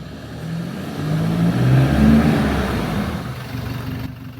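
A Toyota Innova Reborn fitted with upgraded disc brakes accelerates on the road, its engine note rising and swelling over a steady road rumble before easing off, heard from inside the vehicle with no talking.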